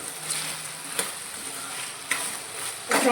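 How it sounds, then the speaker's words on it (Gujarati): Potatoes sauté in hot oil over a high flame, a steady sizzle broken by a few sharp clatters of stirring, close and alone with no voices. "બટેકાને આપણે બેથી ત્રણ મિનિટ આ રીતે હાઈ ગેસની ફ્લેમ પર સાતરીશું"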